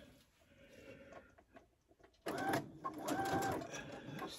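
A sewing machine stitching a hooded towel: quiet handling noise at first, then the motor kicks in abruptly and whirs steadily at close range with a rhythmic mechanical hum for the final two seconds.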